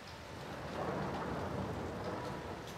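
Steady rain pours down with a low, rolling rumble of thunder underneath, a dense wash of sound at moderate level with no talking.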